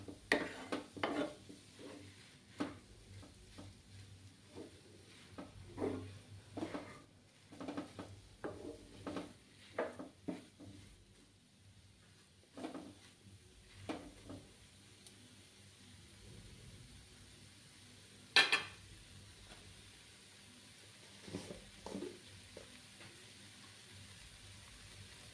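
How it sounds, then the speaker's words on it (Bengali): Palm sandesh mixture worked around a pan, with soft intermittent scraping and tapping strokes, quiet and close, separated by pauses of near silence, with no voices. "এইভাবে নাড়াচাড়া করতে থাকবো, কিছুক্ষণ নাড়াচাড়া করতে হবে।"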